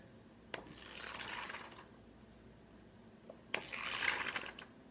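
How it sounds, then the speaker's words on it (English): Two bursts of rustling paper pages being flipped, each starting with a crisp snap, separated by a quiet pause. "What about pages flipping in a book?"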